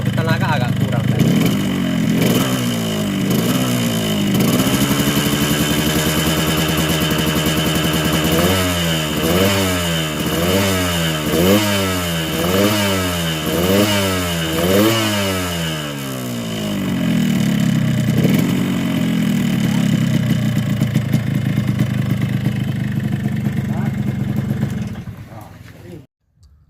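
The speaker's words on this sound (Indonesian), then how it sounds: "Ya, dari suara di bagian blok memang agak kasar." Yamaha RX King two-stroke motorcycle engine running loud and close, idling then revving up and down repeatedly in rhythmic bursts, with a slightly rough sound from the engine block and a weak-powered engine.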